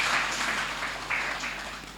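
A church congregation clapping their hands together in praise, a soft, fairly distant wash of applause with a few sharper claps standing out.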